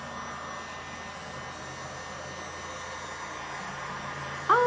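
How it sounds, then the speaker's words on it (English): A handheld heat gun blows steadily at close range while drying a homemade Halloween witch hat, a continuous broadband whoosh holding even the whole time with a slight rise and a brief bump at the very end. "Oh, this heat gun works so stinking well."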